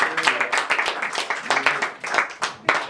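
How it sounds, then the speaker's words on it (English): Live show audience applauding for themselves, a dense wash of clapping with uneven surges and a strong final burst. "So, a round of applause for yourself."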